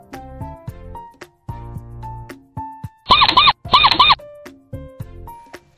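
A cartoon mouse gives two loud, shrill bursts of squeaking in quick succession, standing out between quieter animated fairy-tale music and sound effects.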